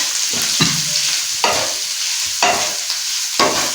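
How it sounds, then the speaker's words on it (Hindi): A spoon scrapes and turns spiced potato samosa filling in a pan, giving about five distinct stirring strokes spaced roughly a second apart over a soft sizzle. Close and fairly loud, with no voices. "इसको मिक्स कर देते हैं, कोई मसला भी नहीं है।"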